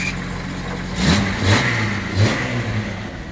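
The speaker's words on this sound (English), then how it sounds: "So you can hear the clutch until you put your toe on it." Engine of a 1996 Jeep XJ idling with clutch noise, then revved in three short bursts, each rising and falling back to a steady mid-pitched idle, close and loud with no talk.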